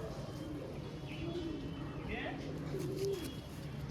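Pigeon cooing from a collection of fancy pigeons, soft repeated coos and low warbling close by over a steady room murmur, with faint bird chirps mixed in.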